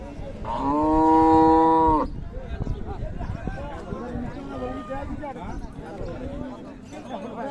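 A cow lets out one long, loud moo at a busy village cattle market in Dinajpur, where Friesian cows with calves are sold, followed by overlapping chatter and bargaining voices with livestock shuffling nearby.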